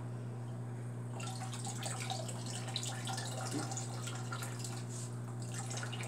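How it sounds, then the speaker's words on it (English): Water running from a hose into an aquarium tank fitted with an on-off valve, a steady close splashing trickle with scattered drips, starting just after the opening second and continuing evenly. "Just get my water flowing,"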